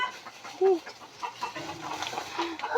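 Chicken clucking nearby, a few short clucks among household noise and background chatter.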